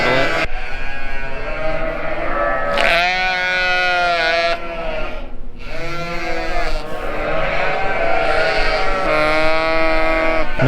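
Lambs bleating inside a barn, several loud, wavering bleats close by that overlap almost continuously, with only a short pause midway.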